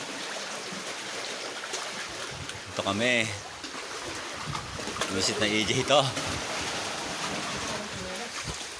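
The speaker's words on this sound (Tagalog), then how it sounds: "Malakas po yung alon" Strong ocean waves at a beach resort in Mauban, Quezon make a continuous, rushing wash of surf with two swelling surges. People talk intermittently over the water.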